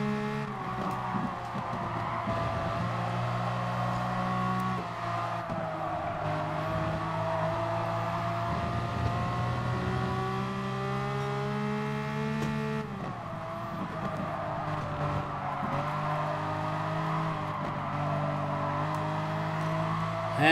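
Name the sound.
race car engine on throttle, Gran Turismo Sport video game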